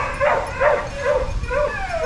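Puppies at a kennel whimper and yip in four evenly spaced, whiny cries, close and fairly loud, with no talking over them.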